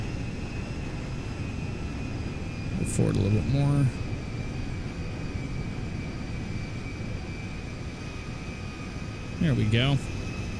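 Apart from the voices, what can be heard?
Antonov 225 Mriya airplane taxiing, GTA 5 video game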